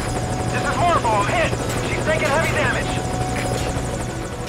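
A helicopter in the video game Metal Gear Solid V: Ground Zeroes, with a steady rotor drone and a buzzing hum. Someone talks over it throughout.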